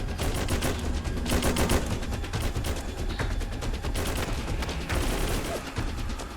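Dense, continuous gunfire in the Fallout 4 mod Fallout London, with rapid overlapping bursts and volleys sustained loudly throughout, no talk.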